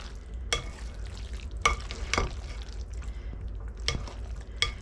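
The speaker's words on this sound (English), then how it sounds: "Now we're just going to go ahead and stir this up really well." Noodles being stirred into a cooking dish with shredded cheese, several sharp scrapes and clinks of a utensil against the pot over a faint low hum, quiet and close.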